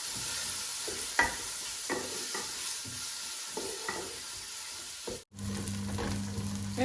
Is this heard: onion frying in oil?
yes